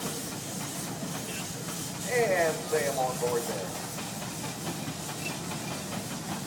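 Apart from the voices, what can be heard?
Gar Scott steam traction engine hissing steam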